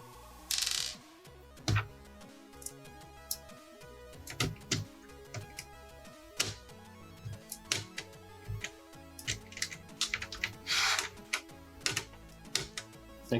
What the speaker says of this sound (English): we're going to screw those back in